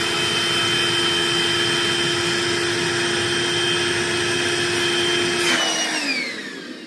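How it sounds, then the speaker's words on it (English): A vacuum cleaner draws air out of a plastic vacuum storage bag with a loud, steady whine and hum that holds for several seconds, then drops in pitch and winds down as the motor switches off. "you simply take our vacuum cleaner, simply push it on, and make sure it's push against this one"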